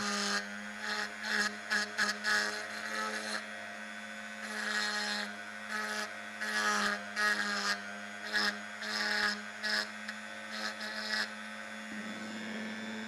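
A Teccpo mini drill fitted with a sanding accessory engraves a surface, giving a steady electric whine and hum broken by repeated short bursts of gritty rasping as the bit touches and lifts.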